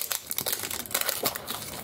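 Plastic blind-box packaging of Disney Princess and Disney Classics 3D figurines being opened, a rapid run of close crinkling and crackling bursts with small tearing sounds, no talk.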